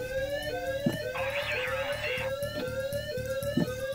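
An alarm clock in a video game beeps and sweeps in a repeating pattern, loud and insistent, with a rhythmic thumping pulse beneath it and a burst of noise in the middle.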